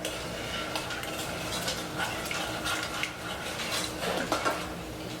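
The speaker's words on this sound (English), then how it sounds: "So I'm going to stir this" A spoon scrapes and clinks around a pan while caramel icing mixture with butter is stirred, a steady busy rustle with light metallic ticks throughout, close and fairly loud.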